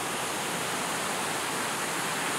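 Broad steady roar of surf at Nguyahan Beach in Gunung Kidul, Yogyakarta, a continuous wash of breaking waves with no gaps or voices.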